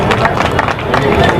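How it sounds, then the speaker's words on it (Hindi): Loud, dense applause from a crowd at a public talk or show, a continuous wash of clapping with a few chatter sounds underneath. "जोरदार ताली के साथ"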